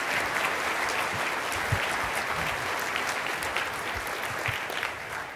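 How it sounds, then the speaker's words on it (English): A conference audience gives a speaker a sustained round of applause, dense and loud crowd clapping that holds steady from start to finish without a break. "Let's give him another round of applause."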